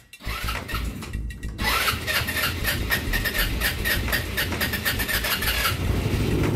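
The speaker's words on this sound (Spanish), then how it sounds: "Y tarda para arrancar, no se mantiene prendida, miren, se apaga." A Honda W150 motorcycle engine cranks after a short pause, then runs roughly and unevenly, faltering as if about to stall, loud and close with no talk over it.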